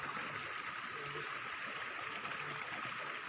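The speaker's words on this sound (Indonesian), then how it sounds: "arus sungai" River current flowing steadily while the river is crossed during a riverside bonsai material hunt, a faint continuous rushing wash with no voices.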